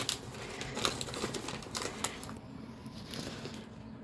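Close rustling and crinkling of packaging as a parcel of plants, including a variegated monstera cutting, is unwrapped, with scattered crisp clicks and paper handling throughout and no talk.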